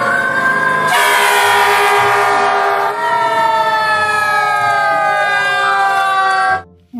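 Toy fire truck playing a loud electronic siren with layered wailing tones that sweep and shift in pitch, close and continuous before cutting off at the end.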